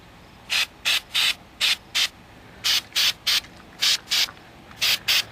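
Repeated short bursts of spray coating hiss onto honking big mud flaps, about a dozen separate blasts in an irregular rhythm, loud and close with quiet gaps between.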